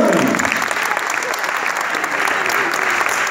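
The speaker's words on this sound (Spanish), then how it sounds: "Denle un fuerte aplauso al mago Sebastián." A live audience applauds loudly and steadily for a newly introduced magician named Sebastián, a dense, even wash of clapping from start to end, with some voices mixed into the crowd noise.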